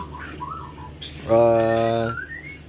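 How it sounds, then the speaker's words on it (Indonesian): A white-rumped shama gives a loud, rich whistled call with a steady harmonic tone lasting under a second, preceded and followed by fainter chirps, in an aviary. "jadi ini adalah indukan yang berada di kandang aviari, indukan murai batu"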